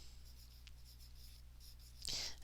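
Pencil scratching on paper, faint and soft over a low background hum, with a brief, brighter stroke near the end.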